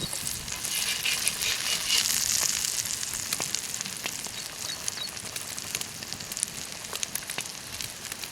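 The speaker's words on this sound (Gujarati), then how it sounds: "હવે આપણે એક ઈંડું ફ્રાય કરવાનું છે." Egg frying in hot oil for a masala omelette: a steady, close crackling sizzle that runs the whole time, with scattered sharper pops and no talking.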